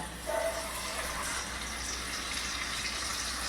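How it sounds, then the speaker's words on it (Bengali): Water pours into a pot of mung dal cooked with a fish head, a brief splash followed by a steady close gush and running fill; no voices. "ওই জন্যে এর মধ্যে জলটা দিয়ে দিলাম"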